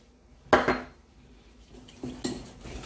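Carrot cake ingredients being mixed in a bowl, a few distinct clinks and scrapes of a utensil against the bowl, one loud knock followed by softer clatters, close and without voices.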